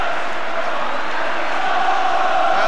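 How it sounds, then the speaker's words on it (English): Spurs football crowd at the 1983-84 UEFA Cup final against Anderlecht chanting for Danny Thomas, a dense, steady roar of many voices filling the stadium throughout, swelling slightly toward the end. "The Spurs crowd are shouting there's only one Danny Thomas to keep his spirits up"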